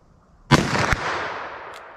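A single loud handgun shot from a .357 or .44 Magnum revolver fired single action at a distant target, a sharp close blast followed by a long ringing decay and a faint echo.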